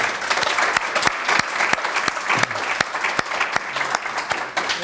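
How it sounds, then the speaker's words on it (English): A conference audience applauds its breakout-session presenters with dense, sustained clapping from many hands, steady and fairly loud for several seconds. "Let us give our presenters a great round of applause."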